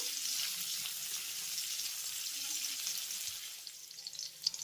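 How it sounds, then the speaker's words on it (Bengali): Grated ginger and chopped green chillies fry lightly in a pan, making a soft, continuous sizzle at low volume, with a few faint stirring taps near the end. "আদাটাকে হালকা একটু ভেজে নেওয়ার পরে একই সঙ্গে দিয়ে দেবো দুটি কাঁচা পাকা লঙ্কা কুচি লঙ্কাটাকেও আমি হালকা করে একটু ভেজে নেব"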